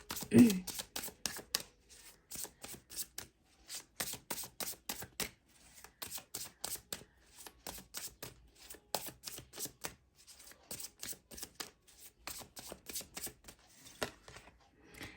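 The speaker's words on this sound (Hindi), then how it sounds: "चलिए अब इस डेक से भी मैं 4 कार्ड्स निकालूंगी गाइस" Tarot cards are shuffled and drawn from a deck up close, giving a long run of quick, crisp papery flicks and slaps in an irregular rhythm, with a brief soft voice near the start.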